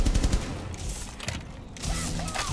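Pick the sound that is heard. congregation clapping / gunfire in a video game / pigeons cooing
gunfire in a video game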